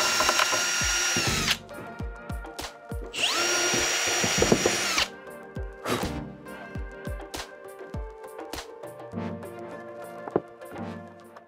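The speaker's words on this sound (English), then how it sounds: "So what I decided to do is drill that one out since it's not fitting right." A power drill whines in two long bursts, drilling out a stripped screw hole in wooden furniture, followed by knocks, clunks and short tool sounds nearby.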